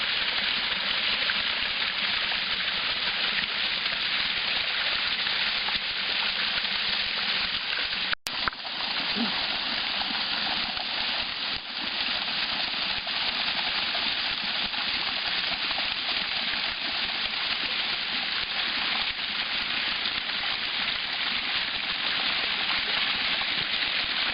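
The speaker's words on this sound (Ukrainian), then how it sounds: "струя води надзвичайно слабенька" A weak stream of water pours at the top of the highest, fifth cascade of the Vozylivski waterfalls in a Ternopil-region canyon, giving a steady, even hiss of falling water with no talk.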